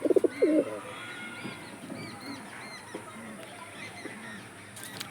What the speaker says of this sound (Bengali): বন্ধুরা, ব্রিডার জোড়া পুরো অ্যাক্টিভ পায়রা